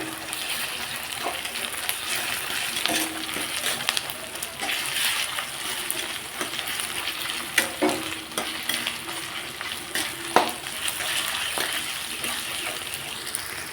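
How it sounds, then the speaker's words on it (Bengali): Ginger-garlic paste fries with onions in a pan, a steady sizzle with repeated scraping and clinking as a spoon stirs, close and continuous. "এইবার আমি এর মধ্যে আদা রসুন পেস্টটা দিয়ে দেবো। দিয়ে খালি জাস্ট একটু নাড়াবো"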